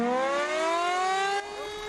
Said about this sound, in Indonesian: sirine peringatan pun berbunyi.